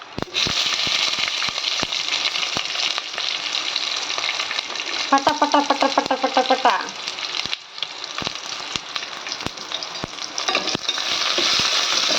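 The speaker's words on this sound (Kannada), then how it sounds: "ಚೆನ್ನಾಗಿ ಈರುಳ್ಳಿ ಫ್ರೈ ಮಾಡ್ಕೊಳ್ಳ" Onions frying in a hot pan while being stirred, a steady close sizzle with scraping strokes of the spoon and a short burst of rattling mid-clip.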